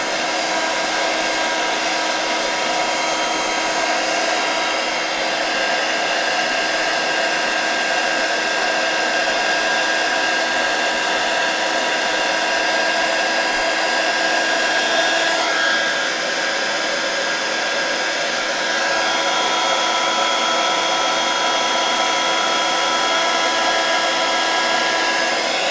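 An embossing heat tool warms ink on a paper gift tag, giving a continuous loud, close blowing whir like a hair dryer that holds steady for the whole stretch with no talking.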